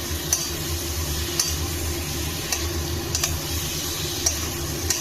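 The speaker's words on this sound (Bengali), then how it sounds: "বেগুন আর পটল যেটা ভেজে রেখেছিলাম ওটা দিয়ে দিলাম, দিয়ে মশলার সঙ্গে আবার একটু কষিয়ে নেব" Fried eggplant and pointed gourd are stir-fried with spices in a pan, a continuous soft sizzle with a few sharp ticks of the spatula against the pan at irregular intervals.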